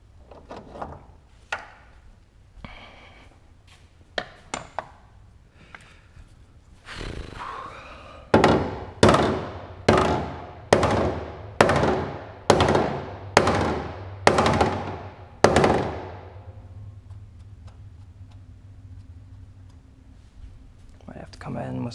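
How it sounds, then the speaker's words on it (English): Hammer blows on tough steel while working on a Porsche 944 during an LS engine swap, with a few scattered taps followed by a run of about nine loud, evenly spaced metallic strikes, then a quiet pause. "I just need to keep hammering"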